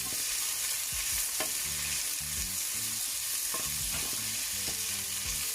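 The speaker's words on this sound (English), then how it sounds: "All right, we're gonna saute this up a little bit." Scallion sautés in a pot with a low steady sizzle, broken by repeated scraping strokes of a spoon against the pot, close and clear with no talking.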